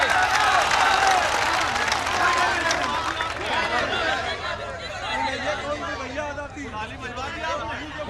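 Audience applause and cheering at an Urdu love poetry recital fill the space, a dense wash of clapping with crowd voices mixed in, loud at first and tapering slightly.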